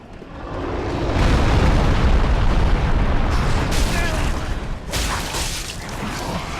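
A drake breathing fire in Dark Souls 3: a loud, roaring rush of flame that swells and holds for several seconds with rumbling low end, followed by sharper bursts near the end.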